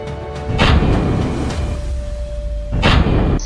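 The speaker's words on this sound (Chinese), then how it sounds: "主炮急速射击" A Type 055 destroyer's main naval gun fires during a live-fire exercise at sea, with two loud, heavy booms about two seconds apart, each trailing into a rumbling decay, and no voices.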